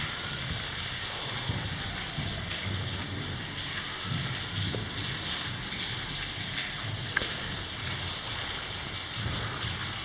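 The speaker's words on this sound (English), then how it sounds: "And man, it's raining" Steady rain falls throughout as a dense, even hiss of drops pattering on surfaces, with a few louder nearby splats and no voices.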